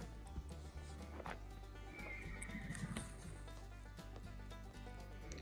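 A young horse tied in an arena during halter breaking gives a drawn-out whinny over a steady background hum, with scattered hoof clops and shuffling nearby.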